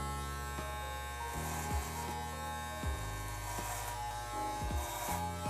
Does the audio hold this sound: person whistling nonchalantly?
no